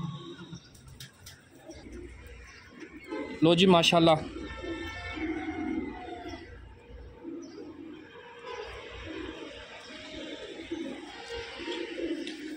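Breeder pigeons coo in a loft, a loud burst of calls around the middle with softer cooing and chirps continuing beneath a voice.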